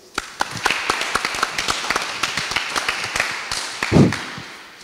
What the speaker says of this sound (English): Can you give a round of applause, please?